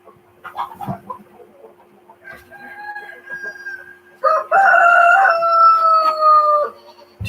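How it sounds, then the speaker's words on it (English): Several farm roosters crow loudly and close by, one long crow followed by a stronger overlapping one, after some scattered clucking and barnyard noise. "Too many roosters for the number of hens."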